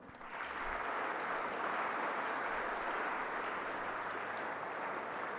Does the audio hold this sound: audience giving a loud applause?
yes